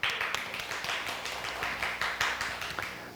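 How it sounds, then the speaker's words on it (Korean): A church congregation claps together in a quick, even rhythm, a run of regular beats heard fairly close and moderately loud. "박수."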